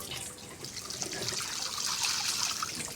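Water is poured into a ritual kalasam pot, a close, continuous splashing trickle with a soft gurgle, heard alone.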